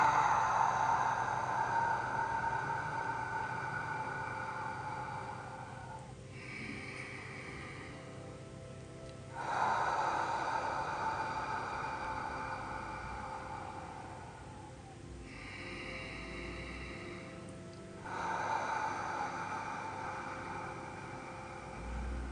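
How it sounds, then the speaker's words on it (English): Slow, deep breathing exercise: long drawn-in breaths followed by steady exhales, repeating in a calm cycle of roughly three cycles, close and quiet with no talking. "breathe in."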